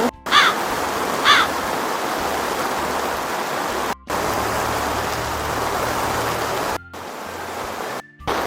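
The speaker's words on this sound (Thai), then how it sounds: "ทุกคนได้ยินเสียงไหมฝนตก" Steady, loud rain pours outdoors over a plant nursery with greenhouses, a continuous dense hiss with two crow caws near the start and a few brief cuts in the sound.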